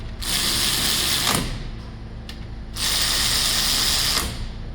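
A ratchet with a 19 mm socket runs down the brake caliper bolts on a 2019 Cadillac Escalade, giving two long, loud bursts of rapid clicking separated by a short pause with a couple of isolated clicks.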